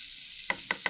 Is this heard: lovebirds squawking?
no